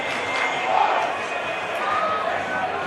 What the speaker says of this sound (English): What an atmosphere here it is now. Great crowd here, great afternoon.